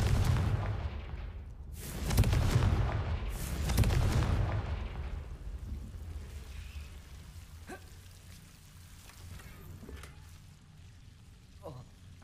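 Fiery Confringo spell blasts in the Hogwarts Legacy video game, two loud booming bursts early on, then a lingering low rumble with faint crackles and small impacts fading into the background.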